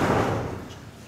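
A door banged hard once, a loud heavy thump that quickly fades away.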